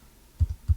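An Enter key on a computer keyboard is pressed at a Raspberry Pi setup, giving two close, soft thumping key taps about a third of a second apart in a quiet room.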